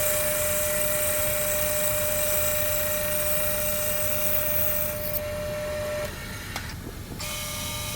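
A bandsaw runs with a steady, loud whine while cutting the kerf into an axe handle during an axe restoration, then the cut ends and the saw drops to a quieter idle near the end.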